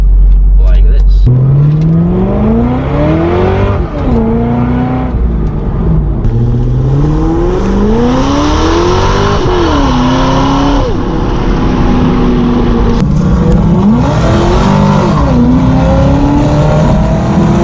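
A supercharged Corvette's engine pulls hard and loud through repeated rising revs and gear changes while driving fast, its whine sweeping up and dropping several times, heard from inside the car with someone speaking over it.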